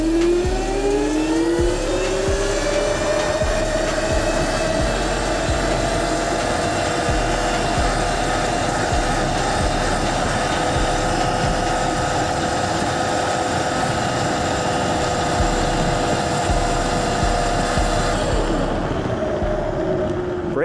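A 48V Razor MX650 electric dirt bike with a 9-tooth front sprocket accelerates to top speed. Its motor whine climbs steadily in pitch and then holds for a long, close run over constant wind and road rush before easing off near the end.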